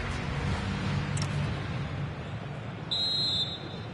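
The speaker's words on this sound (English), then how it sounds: "The player's set, the whistle sounds," A referee's whistle opens the second half of an FC 26 match between Atletico Madrid and Athletic Club, one short, clear blast heard over a steady stadium crowd roar.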